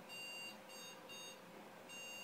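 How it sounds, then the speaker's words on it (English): Desktop computer with no RAM installed, giving its repeating error beep, a high electronic tone in short bursts, faint and distant over background hiss. "that's what the noise displays when you have no RAM installed into your computer"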